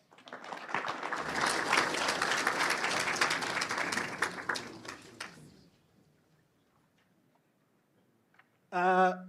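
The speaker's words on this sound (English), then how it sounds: "round of applause for Honorable Minister" A formal lecture audience breaks into applause for an honourable minister, a full room of clapping that swells, holds for several seconds and then fades away, followed near the end by a short burst of voice.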